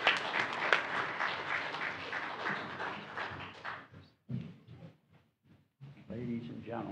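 A church congregation applauds for a few seconds, a dense clapping that fades out before someone speaks over the room.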